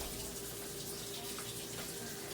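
Tap water runs steadily into a sink filling with soap and bleach, a continuous rushing hiss that stays even in volume throughout, with no voices.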